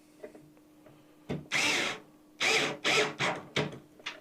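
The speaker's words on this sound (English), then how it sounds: "put the screws back into the back panel here" A power drill drives screws into the back panel of a PC case, giving several short, loud whirring bursts separated by brief pauses, close up.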